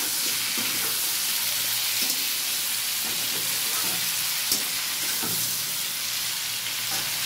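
Potatoes and cauliflower fry in a pan with a steady, loud, broadband sizzle and hiss, broken by occasional stirring scrapes and crackles throughout.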